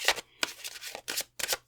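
Tarot cards are shuffled in quick riffling bursts, four or five short crisp flurries of card edges slapping together, close and clear, with brief pauses between and no talking.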